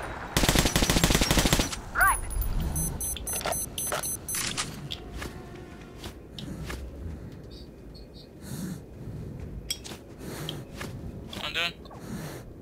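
Automatic gunfire from the video game Metro Last Light, a loud dense burst over the first two seconds followed by scattered single shots and clatter, with a voice speaking over it.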